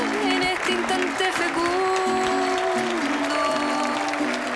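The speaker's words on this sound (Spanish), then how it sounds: "¡Fuertes aplausos!" Audience applause greets the introduction of a Chilean singer on stage, steady dense clapping filling the whole stretch at a loud even level, with a held musical tone and faint voices running through it.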